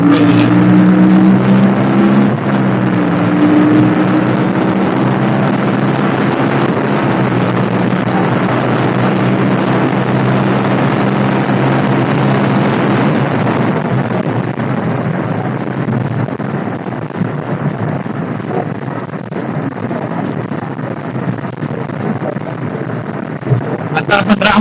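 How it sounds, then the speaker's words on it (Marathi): A motorbike rides along a road with a steady engine drone and heavy wind rush against the microphone, the engine tone shifting early on and the roar easing slightly in the second half. "या रोडला बाईक चालवायची मजाच खूप वेगळी आहे."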